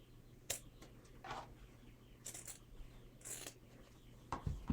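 Scissors snipping through the fabric of a thrifted man's shirt near a seam, a few short separate cuts and rustles spread across the moment at close range, with no talking.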